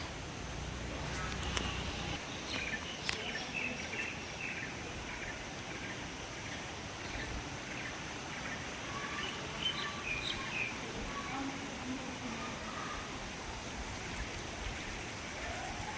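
Water streaming down a hillside at an ashram in Assam, a steady broadband rush with no breaks throughout, birds calling faintly over it.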